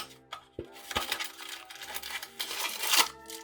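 Czech & Speake shave soap packaging being opened up close, with crinkling, crackling paper and card, a few sharp clicks and taps, and bursts of tearing and rustling.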